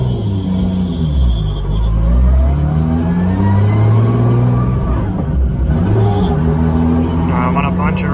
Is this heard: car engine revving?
yes